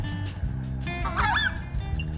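A southern screamer in the Brazilian Pantanal gives a brief, loud honking, gobbling call, heard at mid distance over a rumbling low background.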